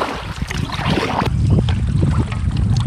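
A canoe pushes off and glides onto wilderness water, with steady broadband water and wind noise throughout and a few low knocks and splashes of paddling up close.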